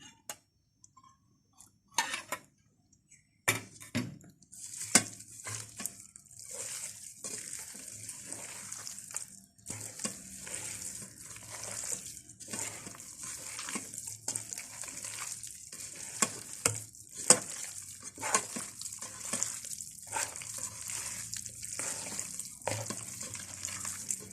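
Eggs stirred one at a time into hot cheese ball dough in a pot, giving steady close wet stirring and scraping with soft sizzling and occasional clacks of a utensil against the pot, no talking.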